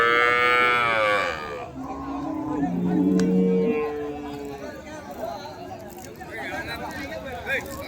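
Bulls at a cattle market give a long, drawn-out moo, and a second lower call follows, close by over constant crowd chatter and talk.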